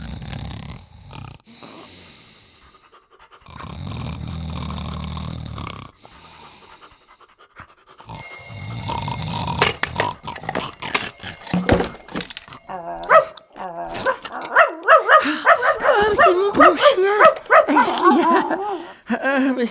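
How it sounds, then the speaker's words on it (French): A dog pants heavily and whimpers up close, with short yips and excited barking building toward the end as it wakes someone in bed. "Mais c'est mon chien qui vient me réveiller."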